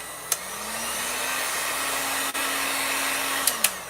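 Heat gun blowing continuously while stripping residue, a steady hiss with a whining motor tone, with a few faint clicks and a brief dropout midway.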